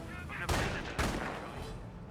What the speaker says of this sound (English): Oh, that mortar is close range shot.